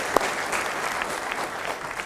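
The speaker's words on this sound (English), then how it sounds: "give yourselves a round of applause" A convention audience fills a hall with dense, sustained applause, many hands clapping together at steady loudness throughout.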